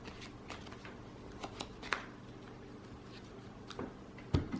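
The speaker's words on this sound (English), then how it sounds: "Shuffle the deck." Cards are shuffled by hand during a tabletop card game, giving soft riffling bursts and taps against a quiet room background, with one sharper flurry near the end.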